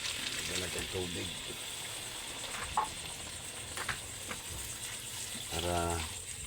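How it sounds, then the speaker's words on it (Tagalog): Water is poured into a pan of cooking vegetables with a soft gushing splash, while people talk intermittently around it at close range. "Lagyan natin tubig."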